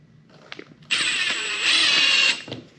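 A power drill drives a screw into a barn wall while shiplap is installed, one steady whirring burst of about a second and a half after some faint handling clicks, then winding down to quiet.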